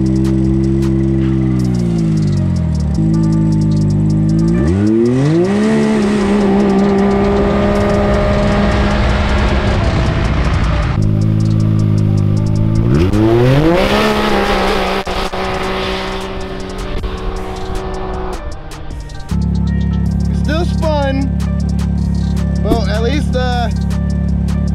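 A Can-Am Maverick X3 revs hard on a boost launch, its engine climbing through rising pitch sweeps and gear changes over about two runs, with tire noise, roaring close and loud, while a person speaks briefly.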